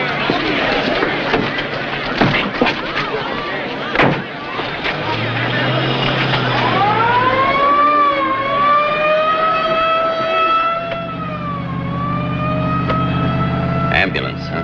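An ambulance siren in an old black-and-white horror film wails with a rising, sustained tone over a low engine drone, loud and close, with clattering and muffled voices underneath.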